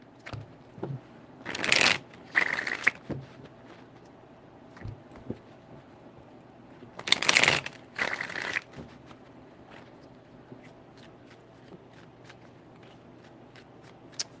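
Tarot cards are riffle-shuffled in two quick bursts, each a pair of short crisp fluttering riffles, separated by a quiet pause with faint handling noises.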